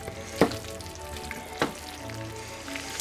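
Romano cheese stirred into broccoli and sausage orecchiette in a hot pan, a gentle sizzle broken by two sharp scrapes of the utensil, near and fairly quiet with no voices.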